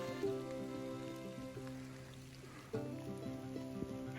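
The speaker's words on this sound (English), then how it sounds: "I don't think there's anything better than walking in the rain" Steady rain falls on a hiking trail in the Smokies near Fontana Dam during a downpour, a dense even patter close around the listener with a sharper spatter or knock partway through and no talking.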